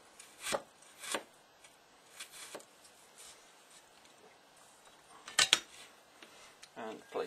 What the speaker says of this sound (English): So, ginger, nicely chopped.